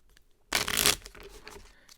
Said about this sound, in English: So you shuffle this deck,